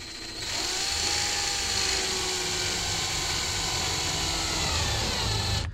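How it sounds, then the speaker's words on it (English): A power driver slowly sinking a small 13mm screw into the body of a 1957 oval window VW Beetle, a steady whining motor drone that starts after a brief pause and runs evenly for several seconds. "I'm gonna start right here in the center and put my little bitty 13mm screw in here slowly"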